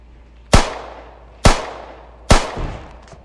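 Three sharp, loud gunshots from a Glock beam pistol in a Roblox game, evenly spaced about a second apart, each with a short decaying tail and no talking.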